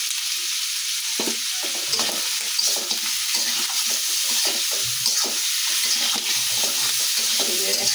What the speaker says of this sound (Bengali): একসাথে ভাজা ভাজা করতেছি